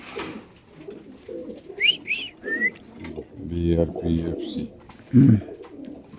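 Racing pigeons at a pigeon farm give soft low coos and throaty rumbles close by, with a few brief whistly notes, while people talk over them.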